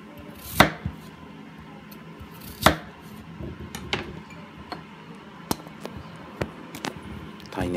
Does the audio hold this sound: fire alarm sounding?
no